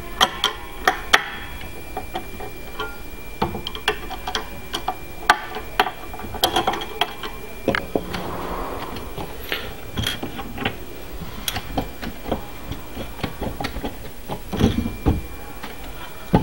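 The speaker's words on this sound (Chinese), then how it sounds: "然后我们可以把这里的螺丝拧松一点。" Screws being loosened on the panel of an A3 multifunction eight-in-one sublimation heat press machine, heard as a steady series of close, sharp ratcheting clicks and ticks with brief pauses, no talking.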